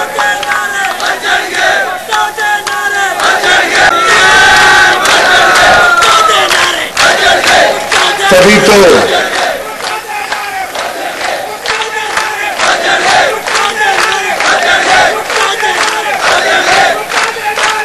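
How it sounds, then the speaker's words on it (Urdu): A political rally crowd loudly chants slogans for Bhutto, rhythmic massed voices and cheering at close range with a voice shouting over them. "وہاں بھٹو دے نعرے وجدے ہیں"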